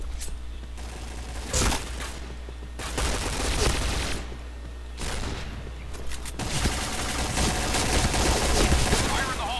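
Rapid bursts of gunfire from the Point Blank first-person shooter, including an MP9 submachine gun, come in loud clustered volleys with brief pauses, layered over game effects and steady background noise.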